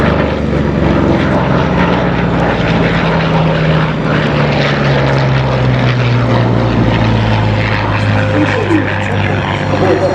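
Corsair World War II fighter flying a display at the Duxford air show, its loud, steady propeller engine drone filling the whole stretch with a slowly falling pitch as it passes.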